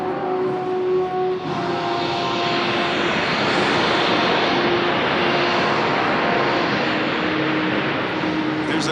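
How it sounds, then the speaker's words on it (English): A USAF C-17 transport aircraft roars loudly and steadily through its engines during an air show demonstration, a dense sustained rumble with a swelling whine throughout. "This is about as much noise as this airplane is ever going to make."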